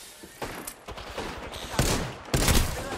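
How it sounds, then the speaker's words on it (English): Gunfire in the video game Apex Legends: rapid bursts of shots crack and rattle, growing louder with two heavy volleys near the end, dense and close. "Being shot at."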